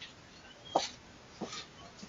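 A dog at a front door whimpers as a pizza delivery driver leaves, two short faint whines about half a second apart over quiet background.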